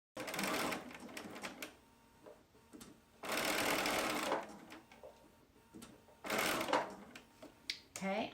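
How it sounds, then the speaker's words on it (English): A sewing machine stitches with decorative threads in three loud running bursts separated by quieter gaps with light handling noise. "Let the machine do the stitching the way it wants to go."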